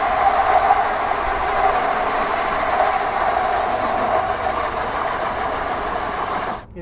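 A 4.5 inch hole saw bores through a camper ceiling for an AC vent, giving a loud, steady grinding whine that runs unbroken for several seconds and then cuts off abruptly.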